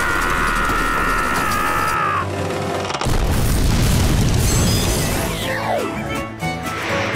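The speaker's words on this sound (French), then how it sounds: "il va exploser." A cartoon explosion of an overfilled bag goes off in a loud boom with crashing debris and a noisy rumbling blast, after a brief lead-in tone.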